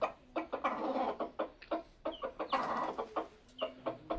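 A chicken clucks repeatedly nearby at a rural fishing spot, in short uneven bursts that are clear but moderately quiet, with no talk over them.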